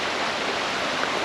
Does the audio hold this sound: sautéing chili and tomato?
no